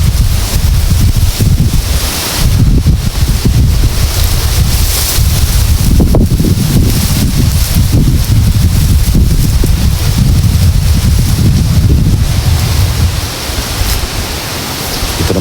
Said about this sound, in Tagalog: So dito mga kaibigan, sobrang lakas talaga ng hangin dito kasi nasa tuktok na tayo ng bundok.